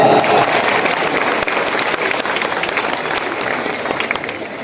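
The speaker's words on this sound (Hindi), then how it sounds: "जोरदार तालियां।" At an award ceremony, the Hindustan Pratibha Samman, the audience gives the chief guest, Professor Dr. K.C. Sinha, loud, sustained applause, many hands clapping in a dense roar that fades slightly toward the end.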